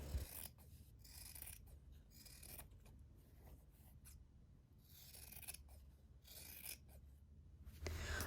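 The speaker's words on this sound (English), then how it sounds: "take your scissors and trim around the edges of the fabric" Scissors snip and rasp repeatedly through fabric held in an embroidery hoop, trimming the excess material in a circle around the edge; close, steady cutting strokes with short pauses, no talking.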